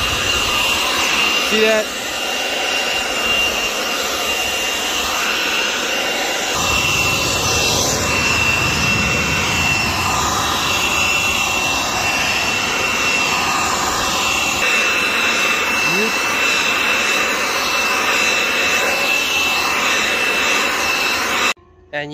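Leaf blower roaring steadily outdoors as it clears fine dust off a floor used for breakdancing, a loud continuous whooshing drone lasting throughout, with a brief voice speaking near the start.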